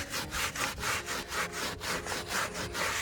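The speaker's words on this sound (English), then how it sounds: "We're just gonna scrub this down like this, really good." A dirty salvage LMM Duramax engine is scrubbed with Purple Power cleaner in fast, even back-and-forth brush strokes, about four per second, a close and steady rasping with no talking.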